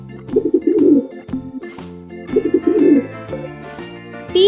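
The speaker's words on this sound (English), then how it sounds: "Pigeon." Pigeon cooing heard up close as repeated low, throaty coos in two bursts, with a steady tonal background throughout and no talk.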